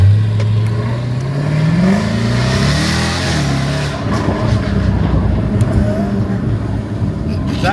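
A Jaguar F-Type sports car with a loud modified exhaust revs up close, its engine note rising and falling in a sustained roar, with voices talking faintly underneath.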